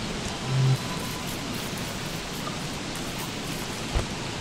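Steady, even rain hisses throughout with no letup in the video game Don't Starve Together, a soft low thump standing out briefly near the end.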